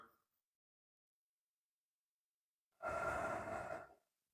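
A single slow, controlled exhale during a passive hip and spine stretch, a soft breathy rush lasting about a second after a long silence.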